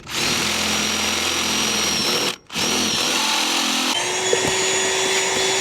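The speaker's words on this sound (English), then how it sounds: "Now use that pilot hole to drill with our step drill the cable entry." A power drill whines loudly and steadily as a step bit cuts a cable entry hole through metal van panel, pausing briefly once before resuming with a shifting pitch.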